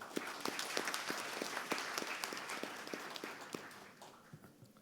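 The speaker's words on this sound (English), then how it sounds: "may I request to have one round of applause for all of you in the hall" An audience at an Oil India investors' and analysts' meet claps in a hall. The applause is soft, dense and fairly distant, holds steady, then thins and fades toward the end.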